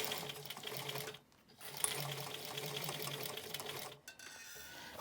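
A sewing machine stitching a shaped fabric face mask, a close steady mechanical whir that pauses briefly, resumes, then stops near the end, with no talking.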